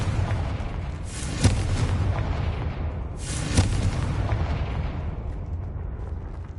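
Two heavy booming blasts from a fire-spell explosion in a wizarding action game, each a sharp crack followed by a fading rumble, over a constant low background roar.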